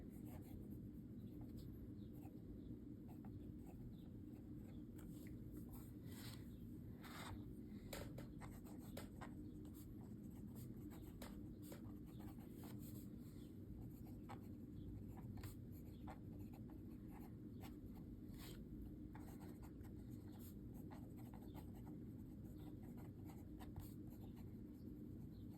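A fountain pen writes the date on a Clairefontaine notepad, giving soft, close scratchy strokes with small nib taps over a steady low background hum.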